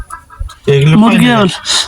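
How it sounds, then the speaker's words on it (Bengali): Chickens being fed grass give a single loud, close, throaty cluck lasting under a second, with quieter rustling before and a faint bird call after. "এটা তো অনেকে জানে না যে মুরগি ঘাস খা"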